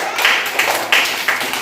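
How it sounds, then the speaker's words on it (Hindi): A group claps in a classroom activity, four short bursts of hand claps in a loose rhythm, close and fairly loud. "एक बार तालियां बजा दीजिए।"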